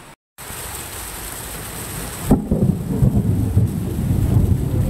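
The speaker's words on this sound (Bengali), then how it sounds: "বাবারে আকাশ ডাকছে জোরে জোরে" A loud, close rumble of thunder breaks in about two seconds into a rainstorm and rolls on over dense, steady rain hiss. There is a brief dropout near the start and no voices.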